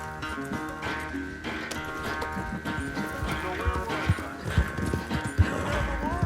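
Horse hooves clip-clop at a busy, uneven pace in the western game Red Dead Redemption 2, with occasional snorts and a quiet voice under a layer of music.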